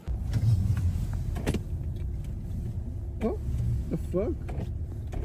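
A car's power window straining against ice on a frozen winter day, with a whirring motor and squeaky strained bursts near the end, under an outdoor hum. A person briefly exclaims.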